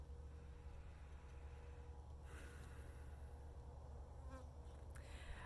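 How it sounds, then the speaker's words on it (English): Bees buzz faintly but steadily, a low, continuous drone with a few brief louder passes of insects flying close by. "would give the sound of bees, to give the presence of bees during this time"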